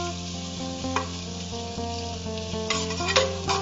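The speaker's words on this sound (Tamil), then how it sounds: "கொஞ்சம் வெங்காயம் நல்லா வறுபட்டு கொஞ்சம் லைட்டா கலர் சேஞ்ச் ஆகணும்" Onions and mint leaves fry in hot oil as they are stirred, giving a steady close sizzle with a few scraping stir strokes toward the end.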